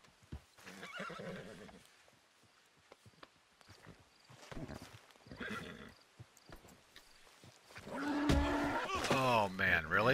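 Horse neighing and hoof clip-clop from a video game, with several whinnies and a loud, rising neigh near the end, mixed with talking throughout.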